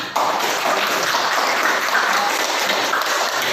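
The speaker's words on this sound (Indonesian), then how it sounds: "Oke, tepuk tangan untuk." Steady applause from a classroom of students, a dense wash of many hands clapping at once, loud and close, holding evenly for a few seconds.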